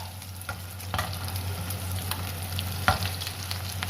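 Beef shami kebabs fry in a pan with a continuous soft sizzle, a few sharp clicks and scrapes rising above it, heard close up with no voices.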